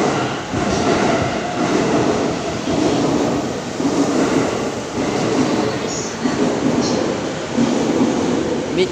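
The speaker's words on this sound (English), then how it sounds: "we have a train arriving into platform number 1" Train pulling into platform number 1 at Hodogaya station in Japan, a loud continuous rumble of rolling wagons with faint wheel squeals and clatter throughout.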